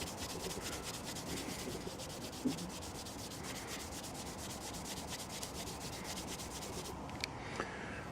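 A knife blade is rubbed with coarse yellow abrasive cloth during a knife restoration, giving a steady, close, scratchy back-and-forth rasp that continues without pause and without talk.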